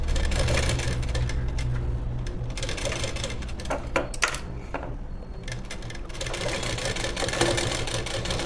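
A sewing machine runs in rapid bursts while stitching a blouse sleeve, its fast rattling needle chatter steady and close, pausing briefly mid-way before resuming, with no voices.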